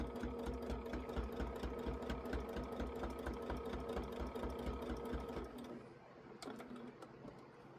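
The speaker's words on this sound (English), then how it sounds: "I'm just quickly taking a 1/4 inch stitch, and I'm only sewing through the sashing and the back of the second" A sewing machine runs fast, stitching a 1/4 inch seam through quilt sashing and backing with a rapid, even mechanical chatter. It slows and stops near the end, leaving a few faint clicks.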